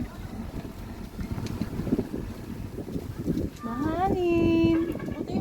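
Wind buffets the microphone in a steady rush while voices talk and a rising vocal tone sounds near the end.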